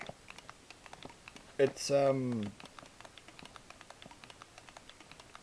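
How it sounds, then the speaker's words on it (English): Rapid, crisp clicking from a micro switch joystick on a Sharkade V1 arcade controller, a steady close patter of small clicks throughout with a short spoken word in the middle. "It's a micro switch joystick, as you can hear by the clicking."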